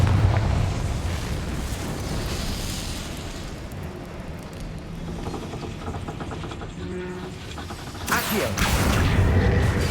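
A Confringo fire spell explodes in the video game Hogwarts Legacy, a loud rumbling blast with a broad roar that carries on for several seconds, then a fresh surge of noise near the end. No one speaks.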